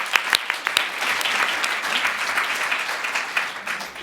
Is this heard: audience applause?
yes